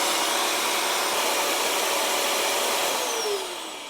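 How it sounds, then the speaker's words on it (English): Steady, loud whirring of a floor cleaner's pumps during its self-cleaning cycle, running close by, a constant mechanical drone that eases off slightly at the end. "press this, and you guys should hear some pumps start"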